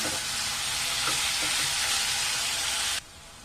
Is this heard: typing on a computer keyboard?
no